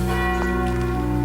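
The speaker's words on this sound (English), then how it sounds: "It's the passing bell." A church passing bell tolls a single deep, sustained strike that hums and rings out steadily over a dense background.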